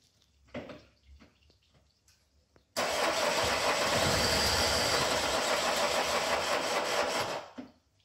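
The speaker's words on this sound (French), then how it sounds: "Démarrage en cours." A car engine is cranked on a vehicle with a permanent short circuit on its 12V battery: a few faint clicks, then the engine catches abruptly and runs loud and steady for several seconds before cutting off.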